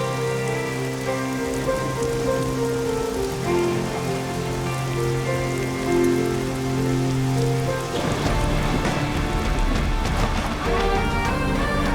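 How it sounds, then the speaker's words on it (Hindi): Steady rain patters on a surface, growing heavier and denser toward the end, with a faint humming tone underneath. "बारिश आने वाली है"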